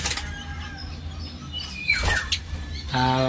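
Pet birds chirp in their nesting area, with scattered short tweets and a brief fluttering burst in the middle, set against steady low background hum.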